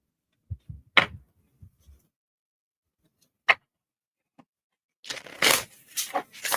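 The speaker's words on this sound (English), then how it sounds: "He's got the full deck in the shuffle." A deck of cards is handled with a few isolated taps and snaps, then a quick riffle shuffle that ends in a rapid, papery flutter.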